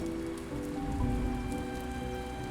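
Rain beginning to fall outdoors makes a steady, soft patter of drops on surfaces, with a low hum running continuously underneath.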